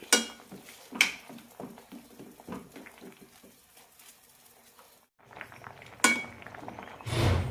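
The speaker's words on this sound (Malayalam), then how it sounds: "ഇടയ്ക്കൊന്ന് ഇളക്കാം അടച്ചു വയ്ക്കാം" A spoon scrapes and clinks against a pot of simmering pumpkin pachadi as it is stirred, then a lid clanks down to cover it, soft irregular kitchen clatter that ends with a louder metallic knock.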